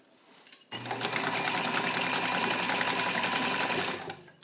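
A restored all-metal Necchi BU Nova sewing machine runs steadily through a zigzag stitch, a loud, even mechanical whir and rapid needle chatter starting abruptly after a moment of quiet and holding for about three seconds before winding down.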